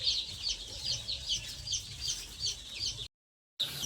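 A flock of about two hundred young chicks chirps and peeps continuously after being let loose, a dense, rhythmic chorus of high cheeps close by, cut by a brief silence before resuming.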